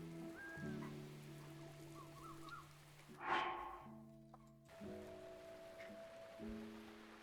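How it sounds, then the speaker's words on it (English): Soft, steady rainfall patters in Breath of the Wild, a quiet hiss of drops underneath gentle sustained musical tones, with one brief louder swell midway. "it's always raining in this game"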